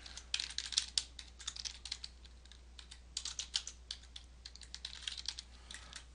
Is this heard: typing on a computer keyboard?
yes